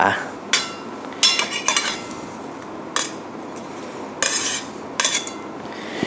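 Metal lid and pan clatter in a home kitchen while stuffed tomatoes with shrimp and parmesan cook, with several sharp clinks and taps scattered across the stretch over a steady background hiss.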